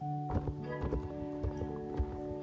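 Horse hooves clip-clopping in the video game Star Stable, a handful of soft, evenly spaced hoofbeats over a steady game soundscape, no talking.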